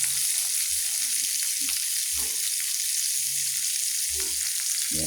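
An egg fries in a pan, giving a steady bright sizzle throughout with a few soft low knocks from the pan, and no talking.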